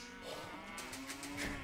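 A cow lows in a strategy video game, a single drawn-out moo lasting over a second, clear and moderately loud without any speech.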